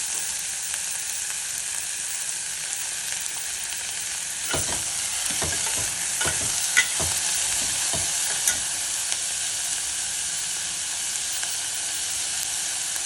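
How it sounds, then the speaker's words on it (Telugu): Pieces of bottle gourd, cucumber and tomato fry in a pan for a vegetable soup. A constant close sizzle is broken midway by several quick scraping stirs. "పొట్లకాయ, కీర, టమాటో ముక్కలు పచ్చివాసన పోయే వరకు కొద్దిగా కలపాలి."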